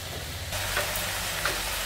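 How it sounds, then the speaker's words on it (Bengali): Dhekia fern greens fry in a pan with a steady, close sizzle that swells after the first half second, with a couple of faint stirring clicks and no talk. "এদিকে আমার শাক ঢেকিয়া শাক ভাজা হচ্ছে"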